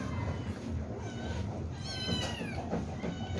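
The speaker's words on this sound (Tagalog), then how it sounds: "Mga mingming kong maliliit" Small kittens meowing after being fed, a thin high mew rising over a noisy, rumbling background with steady low hum throughout, brief and moderately close, no talk over it.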